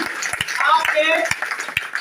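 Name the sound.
audience clapping at a rally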